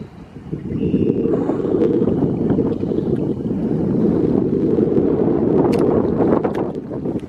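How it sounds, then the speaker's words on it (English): Strong wind roars across the microphone in a constant low buffeting rumble, gusting steadily outdoors with no voices. "it's actually so windy right now"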